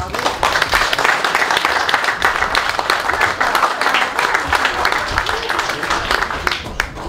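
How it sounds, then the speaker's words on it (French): An audience applauds the club association at a partners' speech event, steady dense clapping that holds loud and even for the whole stretch, with a few brighter individual claps standing out near the end. "j'aimerais applaudir l'association du club"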